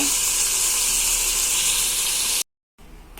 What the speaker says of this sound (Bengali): আর চিংড়ি মাছটা ভেজে তারপর আমি একবারে এখানেই মালাইকারিটা করে নেব।